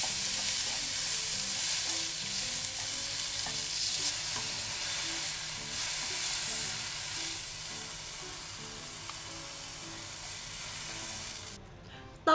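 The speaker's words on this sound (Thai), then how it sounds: "ต่อไปมาที่เห็ดเข็มทองนะคะเราจะเอามาผัดกับเนยหอม" Enoki mushrooms stir-fried in butter with a pinch of salt hiss in a soft, steady sizzle that carries on evenly and then cuts off near the end.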